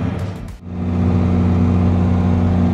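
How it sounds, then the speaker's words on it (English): A steady, close diesel engine drones and hums at a constant pitch as a tractor pulls a John Deere cultivator round and round a farm field, after a brief dip in sound at the start. "This John Deere cultivator, it was another piece that was on the farm."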